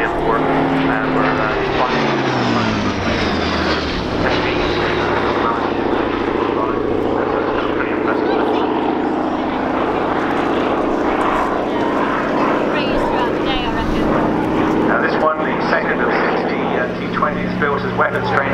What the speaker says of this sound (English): big, heavy propeller aircraft that took off from our carriers